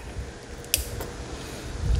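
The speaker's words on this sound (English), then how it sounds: "Now I did turn on my fan because it's a little warm in the garage today." Electric fan humming steadily in a warm garage during golf cart rear brake pad work, a low constant drone with a brief metallic click partway through and some rustling handling noise near the end.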